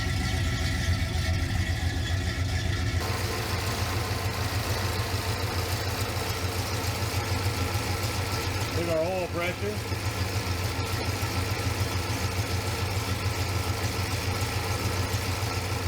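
A 1970 Pontiac Grand Prix SJ engine with headers idles steadily and loudly close by, a constant low rumble throughout while someone talks over it.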